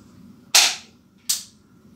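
A Weihrauch HW40 or Beeman P17 air pistol fires two sharp, close shots about three quarters of a second apart, each a crisp crack with a short decay, in an otherwise quiet setting.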